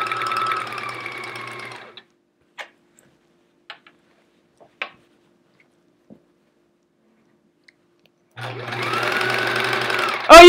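A sewing machine stitches quilt scraps into chevrons in short loud whirring bursts at the start and end, with a few faint clicks and taps in the quiet stretch between.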